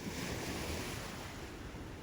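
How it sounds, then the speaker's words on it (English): Waves wash steadily onto a Lake Huron beach, a dense, continuous roar of surf with wind buffeting the microphone, close and loud throughout with no voices. "I'm really zeroing in on the sound of the waves, which were just so fulfilling and so luscious"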